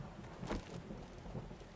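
Steady rain falls in the video game Wasted while a roll of thunder swells briefly partway through, with no voices.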